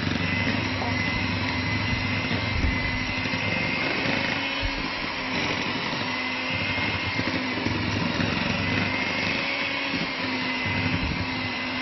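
Electric mixer running at medium speed, beating cream cheese with butter and icing sugar for a blueberry cheesecake, a steady continuous motor whir throughout with someone talking over it.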